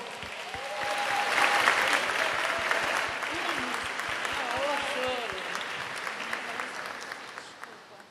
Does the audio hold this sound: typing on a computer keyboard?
no